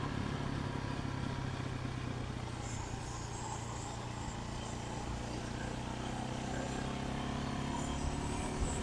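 A street-legal dirt bike cruising down a Nevada road, its engine a steady, continuous drone mixed with wind rush, recorded close from the rider's position at an even loudness throughout, with no speech.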